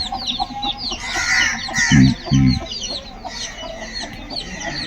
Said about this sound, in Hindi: ये छोटे छोटे चूजे आपको दिखाते हैं। इसमें ये भी चारा खा रहे हैं, ये चूजे।